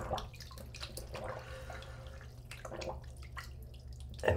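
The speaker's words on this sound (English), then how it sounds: "I'm going to put that in the hot water." Hot water sloshes and trickles softly in a sink as a rolled-up cloth is soaked, with faint drips and gentle splashing under a low steady background hum.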